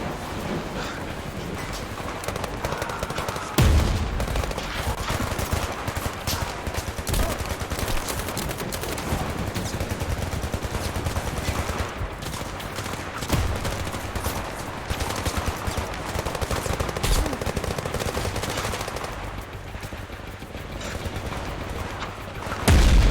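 Sustained gunfire and heavy weapon bursts from the VR shooter game Zero Caliber, dense and loud throughout, with a sharp blast near the start and another at the end.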